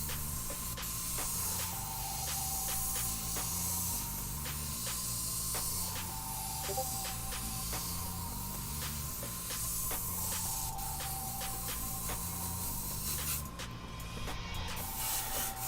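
An airbrush sprays paint onto a black shirt with a continuous close hiss, broken by short clicks and pauses as the trigger works. A low mechanical hum, likely the compressor, runs underneath.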